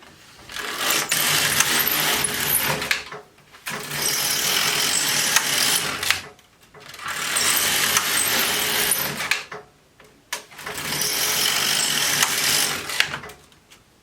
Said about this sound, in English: from here, we're just going to knit 4 rows